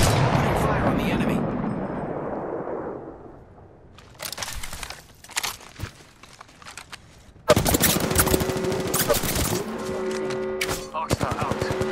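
Apex Legends gunfire: after a fading rumble, scattered single shots arrive, then sustained loud automatic bursts with rapid repeated reports, and game voices are heard between them.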